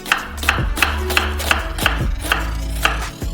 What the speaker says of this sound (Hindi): और फाइनली चॉप करेंगे।